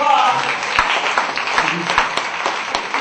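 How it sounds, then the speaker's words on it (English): A comedy club audience gives a round of applause after a night of eighteen comics, dense steady clapping filling the room at moderate loudness with scattered sharper claps standing out. "Give yourselves a round of applause."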